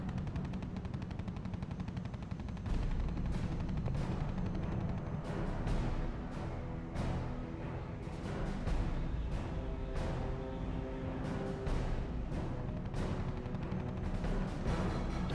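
Anti-aircraft guns in the strategy game RUSE fire in rapid, overlapping bursts. The rattling volleys repeat throughout, steady and fairly loud, with no talk.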